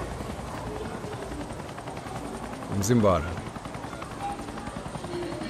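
A helicopter passes close by in a brief swelling rush of rotor noise over steady background from the video game Hitman's Marrakesh mission, with someone talking briefly.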